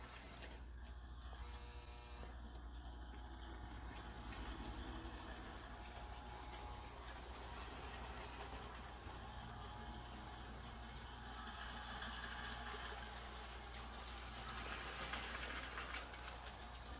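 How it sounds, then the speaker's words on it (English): A 1950 Lionel Union Pacific toy train engine from freight set #1467W runs with a steady, faint mechanical whirring and gear rattle, continuous and even, with no voices over it. "The engine runs surprisingly well, and the reversing unit works perfectly."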